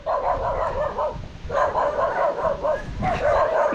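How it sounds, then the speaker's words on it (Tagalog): Several dogs bark in repeated bursts outdoors, loud and close, with rapid overlapping barks filling most of the moment and brief gaps between volleys. "May aso."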